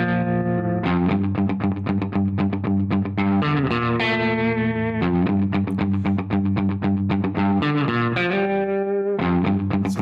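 Electric guitar played in a 1950s surf rock style, driven with a bit of distortion and drenched in reverb and tremolo, strums a steady, loud run of bright chords alone through the whole stretch.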